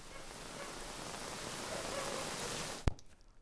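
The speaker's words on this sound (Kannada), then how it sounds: "ವ್ಯಾಪಕ ಮಳೆಯನ್ನ ಮಂಗಳೂರು ಕೂಡ ನೋಡ್ತಾ ಇದೆ." Heavy monsoon rain pours down in Mangaluru, a loud, unbroken wash of hiss near the listener, ending with a sharp knock followed by a quieter, thinner background.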